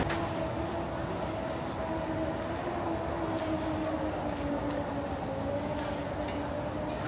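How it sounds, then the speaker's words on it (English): Airport rail link train running in an underground basement station in Thailand, a steady loud rumble with sustained tonal whine throughout, continuous from start to end. "Yung airport rail link."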